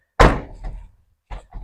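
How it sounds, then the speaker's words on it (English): A car door on a 1991 Mitsubishi Galant VR4, damaged and not closing properly, is slammed shut with one loud close thud, followed by a softer rattle and a second lighter knock. "I have to slam the door hard."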